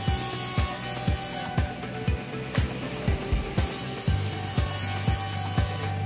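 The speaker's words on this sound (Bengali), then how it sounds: "এটা হচ্ছে যে আমাদের এই কাটিং স।" A cutting saw slices through wood in a furniture factory, with a steady low machine hum under a regular series of sharp knocks about every half second, and bright hissy bursts from the cut over the top.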